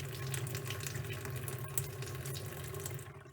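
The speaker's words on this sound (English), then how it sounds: "I'm just going to put the cold water on very gently." Cold water running gently from a kitchen tap, a steady close hiss and trickle into the sink that continues evenly and tapers slightly at the end, no voices.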